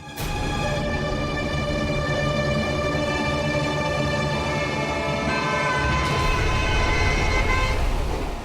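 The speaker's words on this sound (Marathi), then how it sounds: "आता हॉर्नचा आवाज ऐकू आला" A vehicle horn blares in one long, loud, sustained honk, holding steady for several seconds before a second blast joins near the end, with faint traffic noise underneath.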